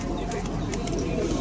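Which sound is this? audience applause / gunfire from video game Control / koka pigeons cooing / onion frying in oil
koka pigeons cooing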